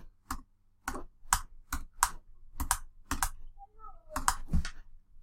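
Computer keyboard keys clacking in a quick, uneven series of about a dozen distinct taps, close by, with a faint murmur in the background.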